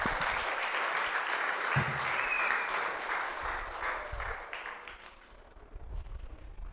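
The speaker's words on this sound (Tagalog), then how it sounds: "Come on, yung malakas na palakpak." A church congregation at a worship service claps loudly in dense, sustained applause that gradually thins and fades toward the end, with some low room noise underneath.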